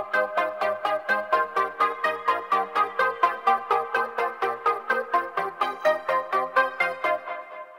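A bright synth lead recreating a track pulses in rapid, evenly spaced stabs of a chord-rich melody, loud and alone, with a steady driving rhythm for several seconds.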